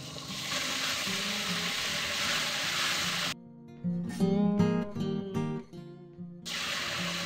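Schezwan sauce frying in a hot pan with spices for tadka noodles, a dense steady sizzle up close. Music replaces it for a few seconds midway, then the sizzle resumes.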